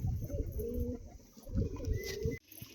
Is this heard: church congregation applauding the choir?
no